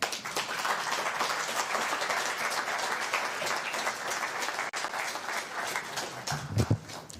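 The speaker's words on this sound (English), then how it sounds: "Give him a hearty clap." An audience claps steadily for a speaker at an academic event, a sustained, even wash of applause that carries through most of the moment before a few louder thumps near the end.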